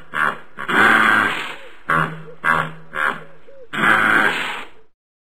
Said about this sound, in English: Hippo.